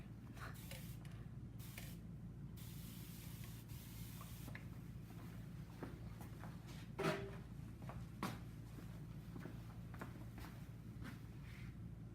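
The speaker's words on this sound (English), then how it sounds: "I'm not spraying alcohol in her head or anything." A few short hissing bursts from a water spray bottle onto hair during a haircut near the start, fairly quiet, followed by soft handling and light tapping sounds.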